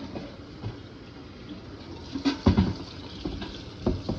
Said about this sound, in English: And then I rinse the inside again.